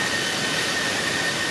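Loud car exhaust during an exhaust test, a dense, roaring, steady blast with no pause through the short moment.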